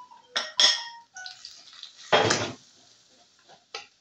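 Potatoes stirred and scraped in a pan with fried onion, turmeric, chili, coriander and salt: a few sharp metallic clinks of a utensil against the pan, then a louder scraping burst, with soft sizzling between.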